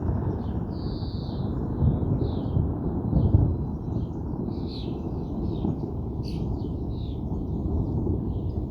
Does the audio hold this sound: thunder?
yes